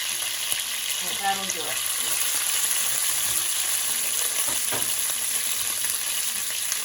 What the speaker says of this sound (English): So you stick your bracioles in and just brown them up.